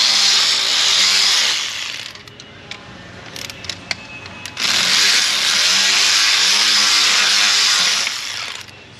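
A power tool working wheel studs out of a Lexus RX400 hybrid whines loudly in two long bursts, with a short gap of clanks and clicks between them.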